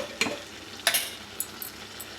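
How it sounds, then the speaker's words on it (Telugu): Onion masala paste and chili powder frying in a pan for a stuffed brinjal curry, heard as a few sharp spatula scrapes and clicks over a faint, quiet hiss. "ఇప్పుడు ఈ మసాలా ముద్దని ఇందులో వేసుకొని ఫ్రై చేద్దాం."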